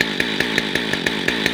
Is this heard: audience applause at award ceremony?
no